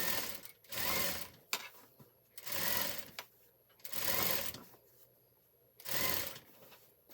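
Sewing machine stitching a shirt seam in a home boutique, running in four distinct bursts of about a second each with quiet pauses between them, close and moderately loud with no talking.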